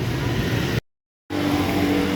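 A bus rumbling out of Patria Blitar bus terminal toward its garage, a steady engine drone nearby, briefly cut to silence before resuming.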